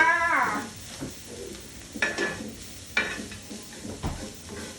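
Chopped fingerroot stir-fried in a pan gives a strong sizzle at first, followed by a soft steady frying hiss broken by a few sharp scraping strokes of a spatula, with no talking.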